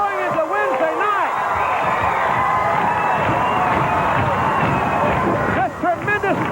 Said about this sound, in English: This tremendous crowd really getting into this one.